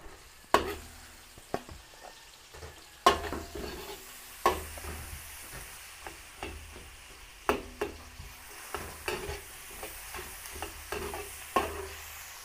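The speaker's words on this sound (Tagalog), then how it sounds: "Luto-lutoy lang po natin saglit yung bawang." Garlic cooking in a pan while being stirred, with a soft continuous sizzle broken by a steady run of sharp utensil scrapes and taps against the pan; no talking.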